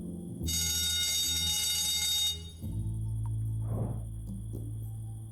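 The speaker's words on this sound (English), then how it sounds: "Seriously, shouldn't you be worried about the alarm?" A fire alarm rings in the point-and-click video game 3 Minutes To Midnight, a loud steady electronic buzzing tone that sounds continuously for about two seconds, then gives way to a lower droning hum with faint clicks.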